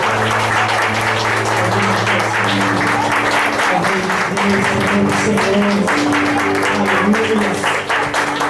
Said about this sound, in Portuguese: Aplaude o Senhor, igreja